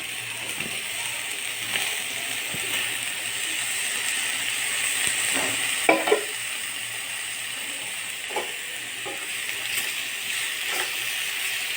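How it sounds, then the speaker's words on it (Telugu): Raw banana slices fry in a spice mixture of salt and turmeric, giving a soft, steady sizzle with a few light clinks and stirring taps. "పచ్చివాసన పోయే వరకు వేపుకొని అరటి చక్రాలను వేసుకోవాలి"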